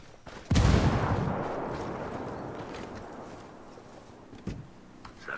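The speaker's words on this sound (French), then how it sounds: "Frag lancé, attention les yeux." A frag grenade blast in the tactical shooter Ghost Recon Wildlands: one sudden loud boom that rolls into a long, fading rumble, with a couple of small thuds afterward.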